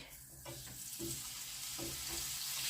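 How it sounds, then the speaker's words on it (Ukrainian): Onion frying in butter in a pan while making a liver cake filling, a soft steady sizzle with a few small stirring clicks, close and fairly quiet, with no voices. "І обсмажуємо спочатку цибульку."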